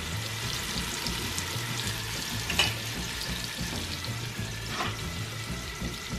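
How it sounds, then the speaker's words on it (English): Beef browns in a pot for Puerto Rican carne guisada, giving a steady sizzle and spitting with a few brief louder pops and scrapes, over a faint low tonal background; no speech. "you want to brown the meat"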